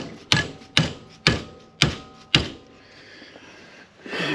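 Five sharp, evenly spaced metallic clacks as the clamp of a hydraulic flaring tool is tightened down on a tube, close and distinct, followed by quieter handling noise.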